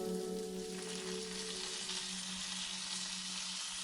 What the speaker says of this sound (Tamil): பூண்டு எல்லாமே அந்த எண்ணெயில் நல்லா வதங்கணும்.